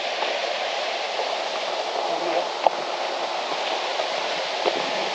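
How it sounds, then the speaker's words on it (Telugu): A small waterfall near a hillside temple gives a steady, dense rushing roar of falling water, fairly loud and continuous, with a faint click or two. "ఇక్కడ కూడా ఒక చిన్న వాటర్ ఫాల్స్ మాత్రం ఉంది చూడండి రా"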